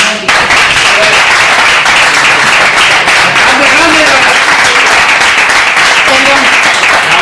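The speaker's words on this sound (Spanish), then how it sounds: "se merece un aplauso" Loud, dense applause from the audience at a talk in Seville on animal experimentation, sustained and even throughout, with faint voices underneath.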